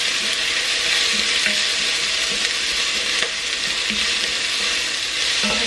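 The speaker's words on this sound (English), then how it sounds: "My celery. Just give it a quick stir." Sliced celery sizzles in a hot frying pan and gets a quick stir, a loud, steady crackling hiss that runs throughout, with a few soft scrapes of the spoon against the pan.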